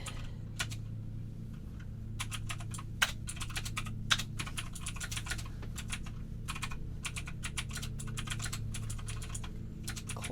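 Typing on a computer keyboard, steady bursts of clicking keys running throughout at close range over a low background hum, with a couple of sharper louder keystrokes.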